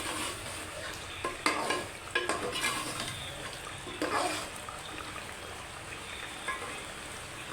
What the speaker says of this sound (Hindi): चम्मच हिलाते रहें